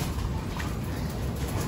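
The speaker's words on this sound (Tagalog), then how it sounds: "Yung ano, mga ibon ni Master Pogi, mga breeder." Pigeons cooing inside a breeder's loft, soft low coos over a steady background murmur of birds, continuous and fairly close.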